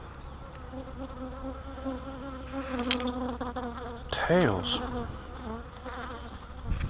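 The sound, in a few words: bees buzzing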